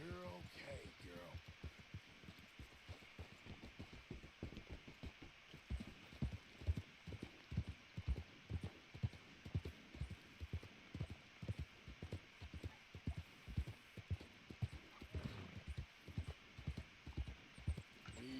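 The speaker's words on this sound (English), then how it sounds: "Let's brush our horsey real quick." Repeated soft rhythmic strokes of a brush on a horse in Red Dead Redemption 2, steady and close, mixed with hoof shuffles and a faint snort while a person talks over them.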